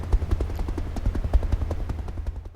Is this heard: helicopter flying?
yes